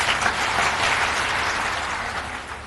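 Sustained, dense clapping from a large audience at an evening satsang, a steady even wash of applause with no voices over it.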